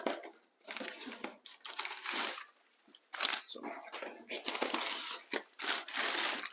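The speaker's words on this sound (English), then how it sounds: "Plenty of packing paper in there." Packing paper crinkles and crunches in bursts as a Crosman DPMS SBR air rifle is unboxed, close-up handling noises separated by brief quiet pauses.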